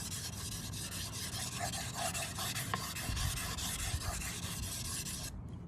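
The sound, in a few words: sharpening a one-sided knife blade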